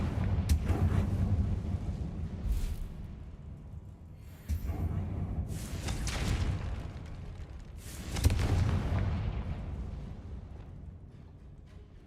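A Confringo fire spell from Hogwarts Legacy goes off as a string of heavy, rumbling blasts, each bursting loudly and fading out, spaced a few seconds apart.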